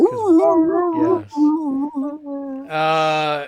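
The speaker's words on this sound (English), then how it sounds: "my dog's going nuts now again" Dog barking and howling nearby, a run of loud pitched yelps and wavering howls with short gaps, ending in a sustained strained howl, no talk over it.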